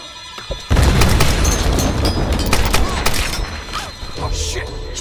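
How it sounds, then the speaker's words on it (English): Machine gun fire in the Tomb Raider video game, a loud sustained burst of rapid booming shots that starts abruptly and rattles on with mechanical clatter. "She has a machine gun!"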